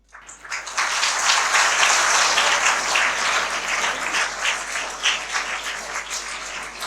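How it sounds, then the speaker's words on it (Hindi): An audience at a student motivational seminar bursts into loud, sustained applause. The dense clapping fills the room from start to finish. "अभी एक बार और ताली बजानी पड़ेगी उस व्यक्ति के लिए।"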